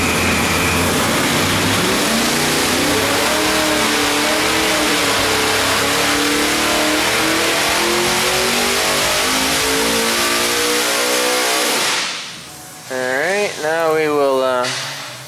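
A small block Chevy V8 on an engine dyno roars loud and steady as revs climb through a long pull, then cuts off abruptly near the end, with a voice heard briefly afterward.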